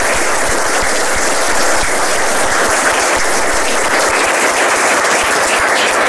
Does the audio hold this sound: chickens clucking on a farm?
no